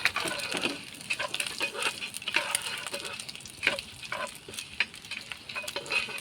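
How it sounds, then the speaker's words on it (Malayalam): Dried red chillies sizzle and crackle in hot oil as they are stirred, with steady frying hiss and scattered sharp pops, close and moderately quiet with no voices. "അതിൻ്റെ കൂടെ വറ്റൽ മുളക് ഇട്ടിട്ട് ഇട്ട് കൊടുക്കണം"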